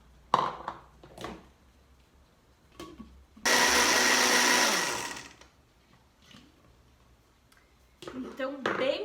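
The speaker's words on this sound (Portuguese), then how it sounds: "E eu vou colocar o milho em grão aqui também, que tem 100 gramas aqui, pra gente bater e moer bem esse milho" A blender grinds 100 grams of dried corn kernels in one loud, steady burst of about two seconds that winds down, with someone talking quietly before and after.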